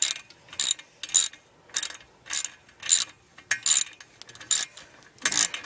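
A ratchet clicks in repeated quick bursts, close and crisp, as it backs out a long head gasket bolt from a 12.5 Briggs & Stratton engine, with short pauses between strokes.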